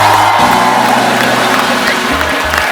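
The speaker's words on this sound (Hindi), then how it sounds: "जोरदार तालियों से स्वागत होना चाहिए।" A studio audience at a comedy talk show loudly applauds and cheers to welcome wrestlers Geeta and Babita Phogat, a full, sustained roar of clapping and whoops over background music.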